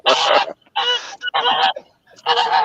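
Geese honk loudly and close by in four harsh, overlapping bursts separated by short pauses, with no talk over them.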